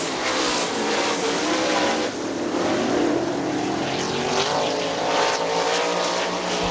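Several 410 sprint cars race on a dirt track at a Butler Battlegrounds Great Lakes Outlaw Super Sprints event, engines roaring loud and continuous as they pass, with a steady wash of high-horsepower noise throughout.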